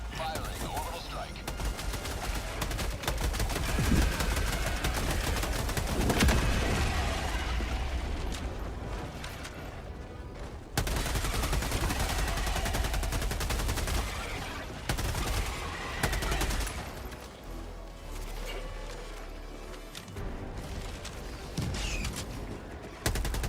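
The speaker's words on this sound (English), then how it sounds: "Firing orbital strike." Orbital strike in the Helldivers video game, a dense roar of rapid blasts and gunfire that rolls on loudly for most of the stretch, with a brief lull partway and a voice talking over it.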